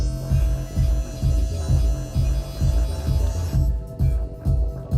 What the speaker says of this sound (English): That noise is a Kawai G Mega telephone sound